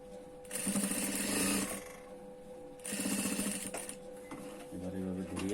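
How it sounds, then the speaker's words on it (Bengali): A sewing machine runs in two long bursts of rapid, even stitching as it sews the end of a collar, with a pause between them. A person speaks softly near the end. "এখানে ব্যাগ স্টিচ দিয়ে কলারের মাথাটা সেলাই দিব একদম মুখে মুখে"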